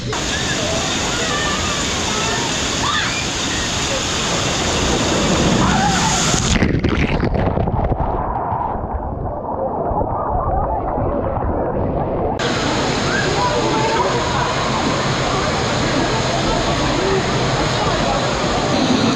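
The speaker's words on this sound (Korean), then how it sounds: "저기 물 엄청 쏟아지는 데 한번 맞으러 가볼까?" Heavy water pours and splashes down at the Ocean World water park, a loud continuous roar with sloshing that dips midway and then surges back, while people talk and shout nearby.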